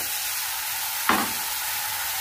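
Marinated taro stolons hit a pan of fried onion and tomato, setting off a sudden louder sizzle burst over the steady background hiss of frying.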